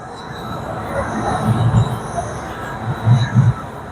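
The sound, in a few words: small tourist train passing in Chinatown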